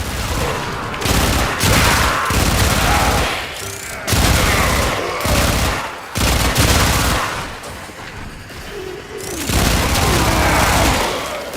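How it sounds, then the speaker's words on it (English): Rapid bursts of machine pistol gunfire in the video game Warframe, loud and close, coming in repeated volleys of a second or two with brief gaps between them, mixed with booming impacts and game effects. "machine pistols, they're actually working quite nicely, and they're not optimized for this"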